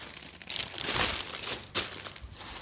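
Plastic bag crinkling as it is handled while unboxing clothing, close crackles swelling in a couple of louder bursts over a few seconds, with no talk.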